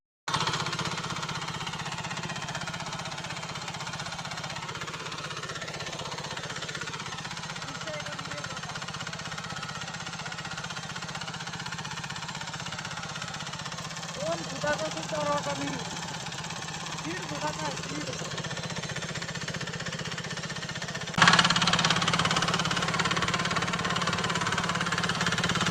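A tractor engine pulling a rotavator through a field knocks and chugs steadily and up close for the whole stretch, growing louder toward the end, while people talk over it.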